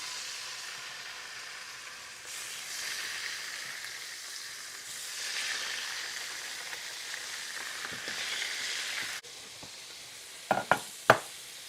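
Pork chops brown in hot frying oil with a steady close sizzle and hiss that swells and eases, ending with a few sharp knocks of handling in the pan.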